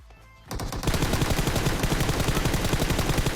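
An M4 rifle fires in the video game PUBG Mobile, a brief quiet lead-in and then a sustained rapid burst of loud automatic shots in even succession, with no talking.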